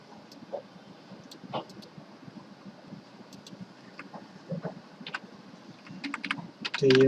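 Computer keys are typed with scattered light clicks while working in AutoCAD, ending in a louder burst of key presses, over a faint hiss.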